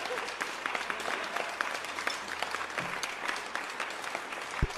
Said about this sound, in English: I'm going to give him a clap for that